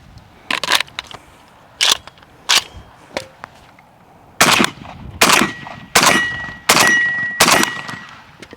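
A suppressed AK47 fires in single shots and short bursts of sharp, muffled reports, with quiet gaps between them and ringing metallic pings from ejected casings after the later shots.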